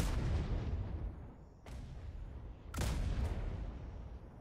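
Ship cannons fire during a harbour battle in the video game ATLAS, with three heavy booming blasts spaced a second or so apart, each rolling off in a long rumbling decay.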